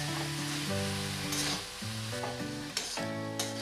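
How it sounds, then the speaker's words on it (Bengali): Radish stir-fried with spices in a pan, a dense steady sizzle with occasional stirring scrapes and a tonal hum underneath. "মূলোটা আমি ভালো করে নেড়ে চেড়ে কষে নেব কিছুক্ষণ সময় ধরে"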